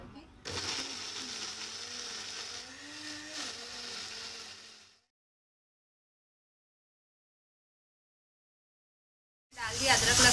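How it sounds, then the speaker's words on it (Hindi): Cashews, poppy seeds, sesame and fried onions whirring in an electric grinder, a close steady drone with shifting pitch that stops abruptly, followed by silence and then a burst of noise near the end. "खसखस, तिल, काजू और ये बिरिस्ता साथ में इसको पीस लेंगे"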